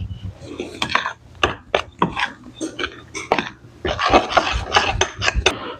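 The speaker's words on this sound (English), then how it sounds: "Now we're going to stir all of this together" Dry baking ingredients being stirred together in a bowl, with irregular scraping and knocking strokes that come in short bursts, close and moderately loud.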